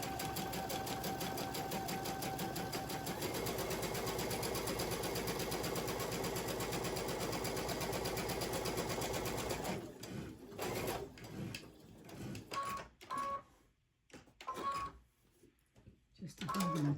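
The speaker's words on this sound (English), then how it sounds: "I'll slow my machine down some." A home sewing machine stitches store-bought cotton fabric onto a plain holiday stocking, running in a steady, dense whir for about ten seconds before slowing into short, stop-start bursts with pauses between them.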